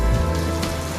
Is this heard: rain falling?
yes